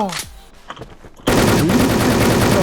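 Sustained automatic gunfire from a weapon in the online shooter Wolfteam, a dense loud rapid burst starting abruptly after a quieter stretch with faint voices and game noise.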